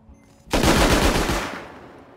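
Turret gunfire in the survival game Rust, one sudden loud burst of rapid automatic shots that starts abruptly and tails off into a decaying echo, with no voices.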